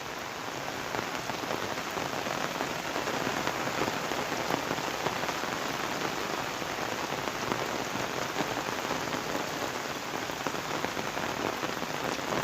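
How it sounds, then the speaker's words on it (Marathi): Steady heavy rain pattering on surfaces, a dense continuous hiss with no talking. "पाऊस हा दोन तीन तास कंटिन्यू पडतोय त्याच्यामुळे एवढं पाणी येते"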